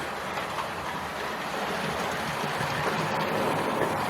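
A Hornby Princess Margaret Rose model locomotive running on track makes a soft, steady whirring rumble of the motor and wheels. It is close and even throughout, with no talk.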